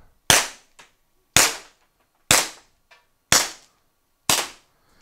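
Five sharp, loud cracks from a TR50 air rifle, evenly spaced about a second apart, each a sudden snap with a short decay and a faint click between shots.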